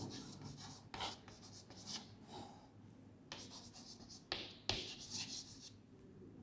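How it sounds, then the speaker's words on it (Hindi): Chalk or a marker writes on a board in a classroom, making quiet, close scratchy strokes and taps in an irregular rhythm. "भाई यहाँ पे लिखा हुआ है, इसलिए मैं लिख दे रहा हूँ।"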